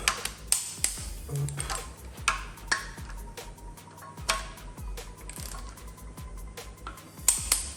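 Bolts on a rebuilt 1.8 EX engine from a VW Golf 1 cabriolet being tightened to 60 with a torque wrench, giving close, sharp ratchet ticks and clicks in irregular bursts, with no talking.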